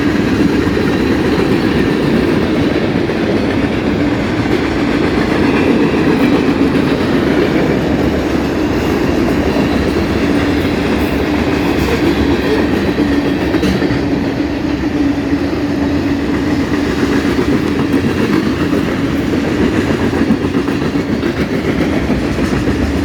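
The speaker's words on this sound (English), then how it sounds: "Yep, it's a mixed freight train." A short BNSF mixed freight train rolls southbound under a highway bridge, its steady loud rumble and rhythmic clickety-clack of wagons continuing throughout with no voices.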